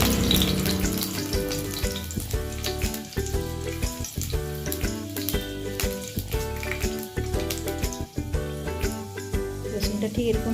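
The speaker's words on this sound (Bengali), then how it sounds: "ওই তেলের মধ্যে 3টে রসুন দিচ্ছি, রসুনটাকে ভালো করে ভেজে নিতে হবে" Three garlic cloves frying in hot oil in a pan, a busy close sizzle with crackling bursts and pulsing stir-like movement throughout, fairly loud and without speech.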